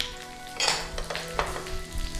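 Onions, peppers and chili sizzle steadily in a hot pan for a stir fry, with a spatula scraping and clinking against the pan a few times as they are stirred, close up and without talk.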